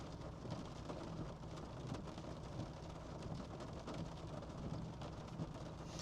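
Steady heavy rain pounding surfaces through a severe thunderstorm with large hail warned, low thunder rumbling continuously underneath, a dense unbroken roar with no voices.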